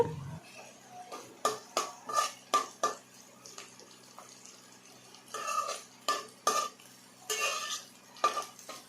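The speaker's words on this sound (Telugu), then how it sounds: "తర్వాత కరివేపాకు వేసుకొని మొత్తం ఒకసారి బాగా కలుపుకోవాలి" Curry leaves are stirred into a Telugu-style raw plantain stew in a pot, giving a rapid series of close metallic scraping and clinking strokes in two bursts with a short pause between them, and no talking.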